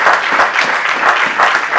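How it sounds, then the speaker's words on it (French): A church congregation claps for Jesus in a short, loud burst of dense applause that stays steady for a couple of seconds. "Applaudissez pour lui."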